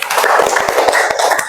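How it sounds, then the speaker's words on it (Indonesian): A short burst of group clapping from students in a classroom, fast and uneven, from several people close by, ending abruptly. "Tepuk tangan dong."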